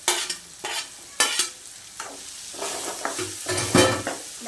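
Sliced okra fries in light oil in a pan, a steady close sizzle broken by repeated scraping and stirring strokes of a utensil against the pan, with no voices.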